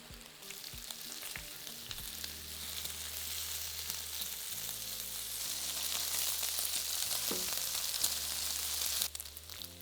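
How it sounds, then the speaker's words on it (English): Steady crackling sizzle of bacon frying in a hot pan, close and continuous, with occasional low clatter of a utensil and no talking. "I'm going to add those to the pan and cook for about 5 to 6 minutes"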